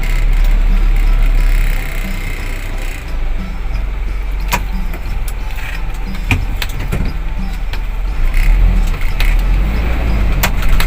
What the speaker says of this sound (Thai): กำลังลองรถหกล้อ